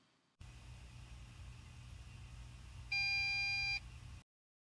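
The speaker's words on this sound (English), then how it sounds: "First beep after first powering on your NAS." A single short electronic beep from a QNAP NAS powering on for the first time, sounding clearly over a steady fan hum.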